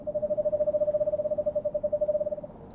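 A screech owl calls in the forest at 1 o'clock in the morning, a steady trilling whistle of rapid pulses that runs for over two seconds and then fades, nearby and alone.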